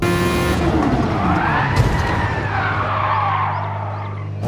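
A Toyota-engined Super Formula SF19 race car in Gran Turismo Sport at Interlagos screams loudly at close range, its engine pitch sweeping up and down through the gears, with tyre skid noise under it and no talk.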